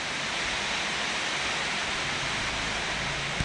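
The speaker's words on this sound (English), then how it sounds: "Sorry about the noise again. It's raining again." Steady rain falling outdoors, an even broadband hiss that continues unchanged throughout, with no voices.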